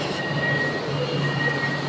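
A train passes through a station in Cyberjaya, Malaysia, with a steady mechanical hum, faint wheel squeal and thin sustained tones running through the close, continuous rumble.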